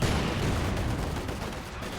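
Mortar and gunfire in a Company of Heroes battle as grenadiers push forward, a dense, continuous rumble of explosions and shots with no pauses, loud and close throughout.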